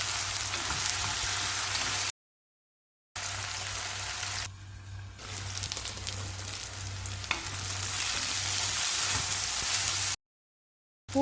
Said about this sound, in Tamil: கத்திரிக்காய் சேர்த்துக்கலாம். ரெண்டு நிமிஷம் வதக்கி விடலாம்.